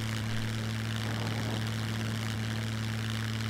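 A propeller aircraft engine drones steadily from inside the cockpit in the survival game SCUM, a constant loud hum with strong low tones and no variation, with no voices.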